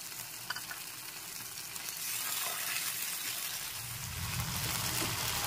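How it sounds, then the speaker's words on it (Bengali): Ginger garlic paste fries in a pan with a little water added, giving a continuous soft hiss and sizzle that swells slightly partway through, with faint stirring underneath. "আদা রসুনের পেস্টটাকে হালকা নেড়ে চেড়ে নিতে হবে"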